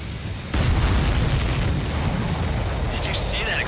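A missile explosion in the video game Ace Combat 7 with an F-15E Strike Eagle: a sudden loud boom that rolls into a sustained roaring rumble, with a brief radio-like voice burst near the end.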